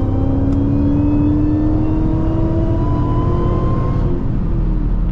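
A supercharged 6.2-litre V8 Dodge Challenger SRT Hellcat pulls hard under acceleration, its engine drone rising steadily in pitch with a whining whir, heard from inside the cabin as a loud, continuous roar with no talking.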